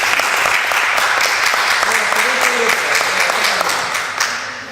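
Children applauding during a physical education game of body expression in a school gym, a dense, loud wash of clapping with voices mixed in.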